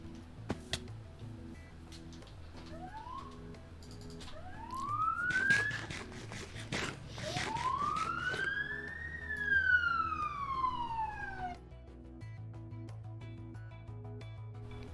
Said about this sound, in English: I'm being trolled by sirens right now